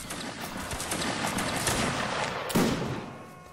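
Musket volleys in a video game battle: dense, rolling crackles of overlapping shots from many guns, loud and close, with one heavier blast late in the clip, no talking.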